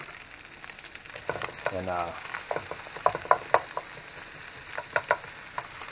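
Onions dropped into a hot pan with bacon, frying and sizzling with scattered crackles and pops, a brief spoken word over the steady hiss.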